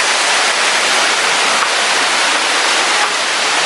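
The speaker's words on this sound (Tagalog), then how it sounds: "The beauty of the falls." Waterfall at Wawa Dam in Montalban, Rodriguez Rizal, a loud, constant broadband roar of rushing water filling the whole clip, with no voices.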